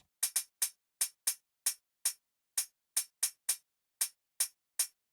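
Very fast grain-style delay from a Supermassive plugin on drums, a dry, roomy pattern of about fifteen sharp, clicky hits in uneven rapid succession, with no reverb tail, alone with no voices.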